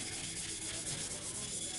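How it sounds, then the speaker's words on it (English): Close, steady hand sanding of a Honda CR250 dirt bike part with a Scotch-Brite pad for a brushed finish, a continuous rough scrubbing that runs unbroken and evenly loud throughout. "sanding it by hand just to get that brush finish look"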